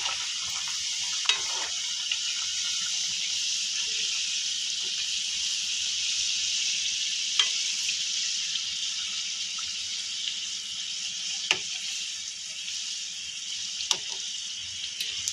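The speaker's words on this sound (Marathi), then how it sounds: "आता आपण करंज्या तळून घेऊयात." Coconut karanji deep-frying in hot oil, a steady broad sizzle that holds throughout with a few sharp crackles and pops scattered across it.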